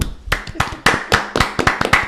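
A small group in a sports podcast studio claps, about nine sharp, separate hand claps in two seconds, close and loud with no talking over them.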